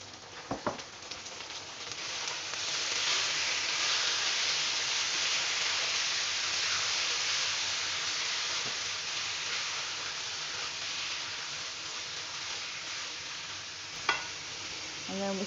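Meat drops into golden fried onions in a pot for a chicken palak curry and sizzles loudly and steadily, with occasional stirring scrapes and a sharp knock near the end.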